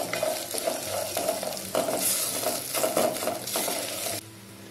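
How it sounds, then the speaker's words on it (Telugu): Cashews frying in a pan until golden brown for vegetable pulao give a steady, close sizzle with rhythmic stirring scrapes throughout, then drop to a quieter hiss at the end; no voices. "క్యాజు గోల్డెన్ బ్రౌన్ అయ్యే వరకు ఫ్రై చేసుకోండి"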